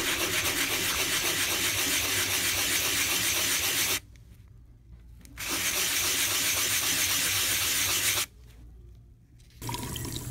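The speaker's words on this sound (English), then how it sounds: "And now we sand it." Sanding a refillable Canon PG-245 ink cartridge, a steady loud rasping scrub in two long passes separated by brief pauses, with no talking.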